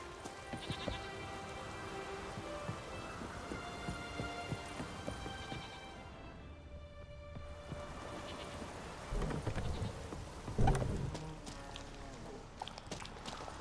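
Steady rain pours through a thunderstorm, with a deep rumble of thunder swelling late on. Layered tones and background sounds run underneath, and there is no talking.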